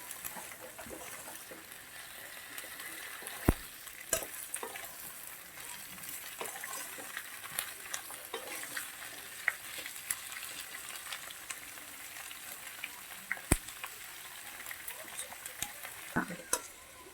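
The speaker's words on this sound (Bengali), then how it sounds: "সামান্য একটু আমরা তেলে নাড়াচাড়া করে নেব।" Onion, capsicum and green chilli stir-frying in hot oil for chilli chicken, a steady close sizzle broken by sharp scrapes and clicks of a spatula against the pan, with no voices.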